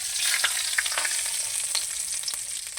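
Panch phoron spices, bay leaves and dried chillies frying in hot oil, a loud, steady close sizzle with small crackles and pops, no voices.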